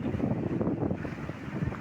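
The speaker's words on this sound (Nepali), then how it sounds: "ओ वाउ, हावा चलिरहेछ।" Wind blowing steadily across the open air at the Kerabari suspension bridge over a stream in Morang, a continuous rushing buffet on the microphone lasting throughout, fairly close and unbroken, with no talking.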